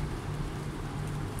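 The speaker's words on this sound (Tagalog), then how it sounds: "Sa wakas, umulan na." Steady rain falls in the United Arab Emirates after a stretch of humid weather, a continuous dense hiss with no talk over it.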